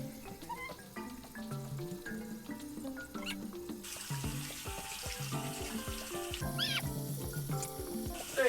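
Tap water runs steadily into a sink while a green face mask is washed off, a continuous splashing stream with shifting clinks and gurgles, close and moderately loud, no talk.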